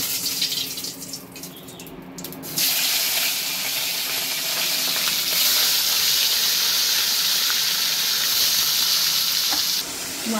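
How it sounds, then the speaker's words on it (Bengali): Tangra fish fry in hot oil with turmeric, a soft sizzle swelling abruptly into a loud, dense, continuous crackling hiss that stays steady to the end, with no voices. "একে একে সবকটা মাছ আমি ভেজে নেব।"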